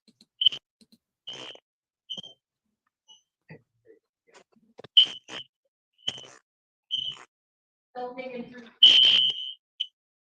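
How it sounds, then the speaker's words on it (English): An alarm goes off in a courtroom during a jury trial, giving several sharp high electronic beeps in an irregular run, loud and close, separated by silences. "we have an alarm going off, so I'm gonna have to stop this proceeding"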